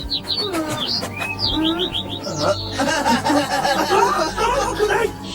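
Several high, quick bird chirps and whistles ring out close by in a Gormiti cartoon, with people talking and chuckling underneath throughout.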